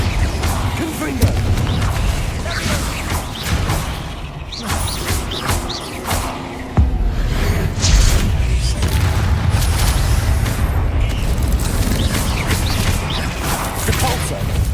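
Confringo blasting spells erupt in a Hogwarts Legacy battle against spiders, loud booming crashes and clattering impacts over a dense, continuous roar of game effects and music.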